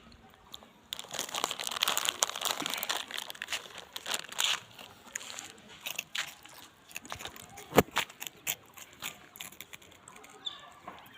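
Someone eating Kurkure snack from a crinkly packet, with steady crunching bites and plastic rustling close by, continuing through the whole stretch.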